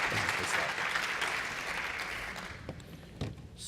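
Sustained audience applause greeting John Willis at a DevOpsDays Detroit 2018 conference, a dense broadband wash of clapping that holds steady, then gradually thins and fades toward the end.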